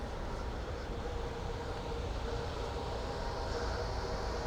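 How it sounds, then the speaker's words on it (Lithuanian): An electric train at Kaunas railway station gives a continuous broadband rumble and rush, steady and fairly close throughout, with no clear talk. "Jį dažniausiai atvyksta traukiniai elektriniai."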